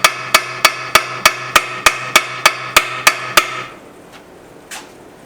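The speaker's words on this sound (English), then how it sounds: "Copper hammer, copper mallet, and just a little lightly tapping." A copper mallet lightly taps a rusty antique cast iron book press during restoration, about a dozen evenly spaced, ringing metallic knocks up close, then near quiet with one faint knock.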